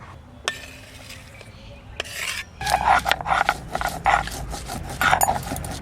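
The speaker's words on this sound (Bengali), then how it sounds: "প্রথমে লঙ্কাটা বেটে নেব।" Green chilli is ground on a grinding stone in a Bengali home kitchen with a repeated rasping, scraping rub, which grows louder and more rhythmic after a short quiet start.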